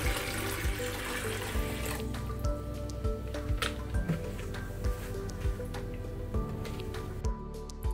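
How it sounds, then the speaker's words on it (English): Liquid is poured into a dosing container for a reef aquarium dosing unit, with close, steady splashing and rhythmic dripping pulses throughout. "start off by adding your chosen liquid into a container A"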